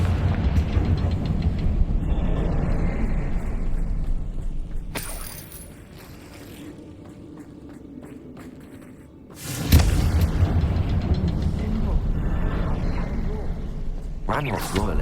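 A Confringo fire spell explodes in Hogwarts Legacy, a loud booming blast that cuts in sharply after a quieter stretch, with a voice calling out the spell amid ongoing game sounds and rumbling.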